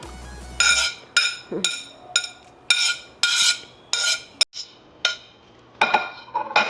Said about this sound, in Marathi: त्यानंतर सगळं मिक्स करून घ्यायचं आहे